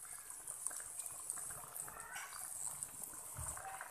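Sweet and spicy chicken sauce with lemon juice simmering in a pan, a faint steady bubbling and crackling that continues quietly throughout.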